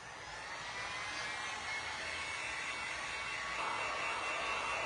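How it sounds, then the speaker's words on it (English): A hair dryer blows a steady, loud, broadband whoosh close by, drying paint on a glass snowman hat craft project, running continuously with no talk. "I'm gonna hit this with my dryer again"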